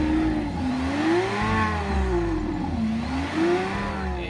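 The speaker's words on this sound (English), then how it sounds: "A muscle car V8." A simulated muscle car V8 engine from a phone app revs up and down in steady waves, a deep rumbling tone rising and falling several times, loud and close with no talking.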